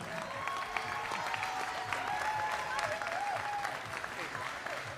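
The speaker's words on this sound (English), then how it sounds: "Guys, give everybody a round of applause." Audience applause for a group of committee members and volunteers gathered on stage at a citizen project pitch competition, steady dense clapping filling the room throughout, moderately distant, with faint voices mixed underneath.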